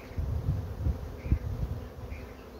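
Honeybees buzz thickly inside an open hive during artificial swarm splitting, a dense, steady low drone of many wings close by, rising and falling slightly with a few louder passes near the microphone.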